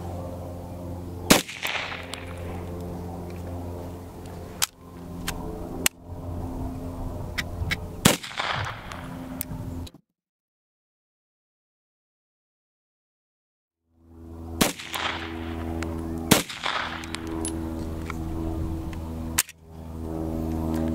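A Type 14 Nambu pistol is fired outdoors, with a few sharp, widely spaced shots over steady background noise and a few seconds of silence in the middle.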